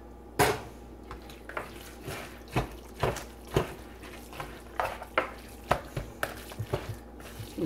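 Homemade cornbread dressing with broth stirred in a pot, giving a series of soft scraping, clacking strokes in an uneven rhythm, close and quiet, with no talking.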